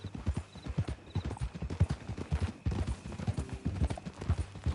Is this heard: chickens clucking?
no